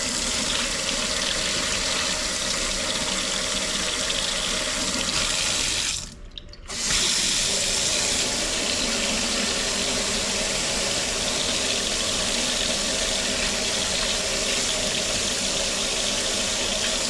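Water runs steadily from a tap in a residence bathroom, a loud continuous hiss and splash that stops briefly for about half a second before resuming and running on alone.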